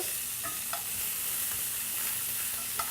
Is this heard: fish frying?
yes